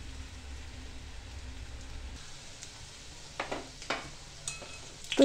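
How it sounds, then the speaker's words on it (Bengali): Shredded potato for jhuri bhaja frying in hot oil in a home kitchen, a low steady sizzle with a few louder bursts of crackle and stirring clatter near the end. "সবটা ঝুরি ভাজা ভেজে নেব তেলে।"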